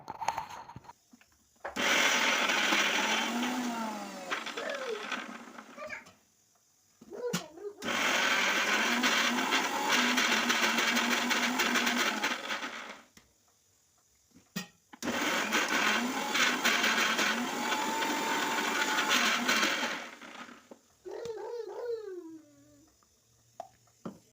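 A kitchen mixer grinder grinds masala paste in three long, loud whirring bursts of several seconds each, separated by short pauses with faint clatter and rattling of the jar between runs.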